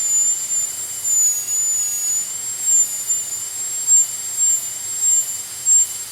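An NSK rotary tool whines steadily at a high constant pitch while shaping a crochet hook, with small dips and surges in its load as it bites the work; close and loud, with no voices.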